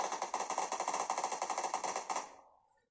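Rapid machine-gun bursts in the mobile battle-royale game PUBG Mobile, a steady rattling run of shots at even pace lasting over two seconds before trailing off into silence.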